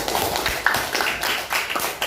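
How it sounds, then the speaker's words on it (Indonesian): Students in a classroom give a brief round of applause for a classmate, a short burst of scattered claps lasting about two seconds. "Tepuk tangan buat Aulia"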